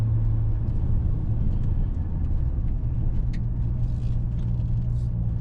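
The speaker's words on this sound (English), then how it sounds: "Car's a little loud." A car engine drones loudly and steadily from inside the cabin, a constant low rumble with faint rattles over it and no talking; the car has a chattering clutch.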